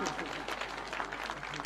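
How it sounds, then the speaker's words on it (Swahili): An audience clapping at a Kenyan presidential celebration of the Hustler Fund's first anniversary, a dense, moderately faint patter of many hands with talk mixed in. "Wapi makofi ya mladha tafadhali?"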